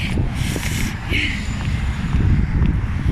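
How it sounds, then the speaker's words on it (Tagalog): Strong cold winter wind in Dubai buffets the microphone with a constant low roar and gusty rumble, loud and close, with no speech heard. "Ang lamig! Grabe yung hangin."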